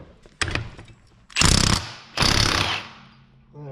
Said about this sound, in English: So I've got my Milwaukee gun, let's see if it works.